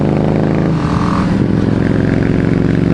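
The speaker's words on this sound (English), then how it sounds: "Nice little Harley there. It's a learner Harley." Small learner-class Harley-Davidson motorcycle riding past nearby, a steady loud engine drone that swells slightly as it goes by, with road noise and no talking.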